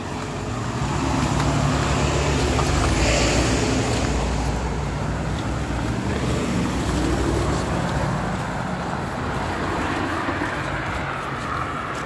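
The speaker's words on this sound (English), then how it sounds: "They'll take your path because there's a bus coming." A bus comes along a busy street amid passing traffic, its low engine rumble and road noise swelling and holding close by for several seconds, with no talking.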